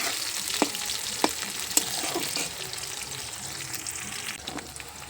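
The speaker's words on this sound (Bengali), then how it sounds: "পেঁয়াজ কুচি আর লঙ্কা কুচি দিয়ে পেঁয়াজ লঙ্কাটা ভালোভাবে ভেজে নেব" Chopped onion and green chili fry in oil with cumin and dried red chili, hissing in a steady sizzle while a spatula taps the pan three times early on, then stirring continues.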